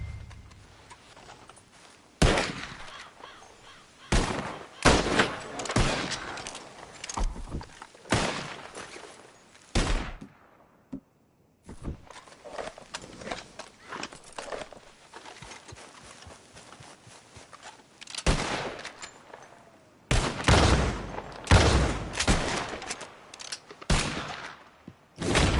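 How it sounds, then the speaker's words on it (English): Bursts of gunfire in Red Dead Redemption 2, single shots and rapid volleys, loud and close, spread irregularly over nearly half a minute with short quiet gaps and occasional hoof clatter among them. "As soon as you see him, start shooting."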